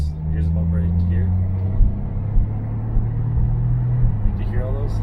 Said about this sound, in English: You can hear the bumps. Here's a bump right here.